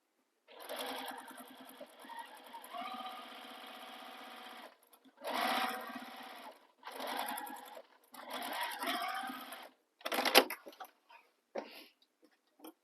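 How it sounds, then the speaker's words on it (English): A sewing machine stitches the seam allowance on an Ember crossbody bag: one long steady run of stitching, then several shorter bursts with brief pauses between, close and clear, with no talking. "So we're going to stitch this using the seam allowance given in the pattern."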